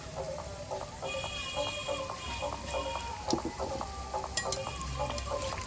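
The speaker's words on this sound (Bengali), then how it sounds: "আমি এই কটাই আস্তে আস্তে আমি ভেজে নেব" Aloo chop potato fritters fry slowly in a pan of oil, with a steady soft sizzle and bubbling under light clinks and stirring taps, close and moderately loud, with no talk.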